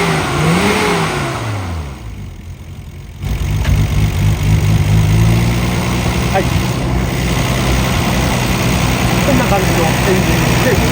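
Nissan Skyline GT-R BNR32 with an HKS 2.8-liter engine, loud and close, revving early, then dropping to a quieter stretch before settling into a steady, rough idle.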